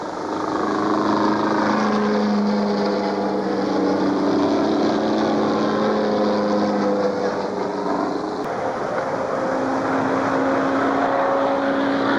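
A 1930s-era racing plane's engine roars during a speed record run at 293 miles an hour, a loud sustained drone with shifting pitch as it passes, steady and continuous throughout.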